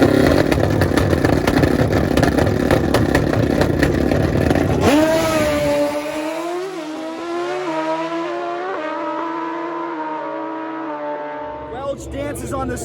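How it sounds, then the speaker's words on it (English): High-powered grudge racing motorcycles at a $90K drag race, a loud engine roar building then a long rising howl as a bike accelerates down the strip, with a commentator talking over it. "We're going to give you a look at some of the fastest bikes."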